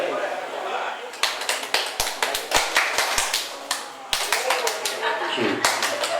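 Audience at an evening reunion gathering clapping hands, a dense run of sharp claps close to the microphone, with voices talking over it at times.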